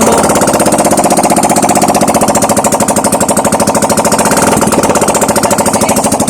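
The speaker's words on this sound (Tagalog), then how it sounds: "painitin natin ang kanyang motor ng ilang minuto" A Honda Click 125 scooter engine, warming up after being flooded, idles loudly up close, a steady rapid knocking putter that runs evenly without a break.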